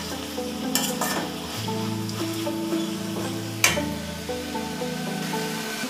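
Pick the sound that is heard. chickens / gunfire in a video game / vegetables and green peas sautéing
vegetables and green peas sautéing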